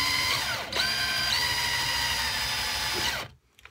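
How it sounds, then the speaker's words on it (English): A power drill on its lowest setting bores a hole into a wooden pinewood derby car body, giving a close, loud, steady whine with slight pitch shifts. It stops abruptly near the end. "So we're going to go ahead and drill this. We're going to do this on the lowest setting here"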